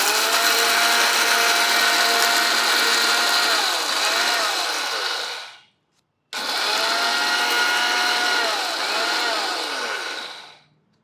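A mixer grinder runs on black gram for chutney, roaring loud and steady in two long bursts separated by a short pause, the whine easing as each run winds down.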